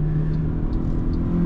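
A 2024 MG HS with a 1.5 T-GDI engine and DCT gearbox accelerating hard, a steady loud cabin engine drone with a firm low hum throughout the brief moment.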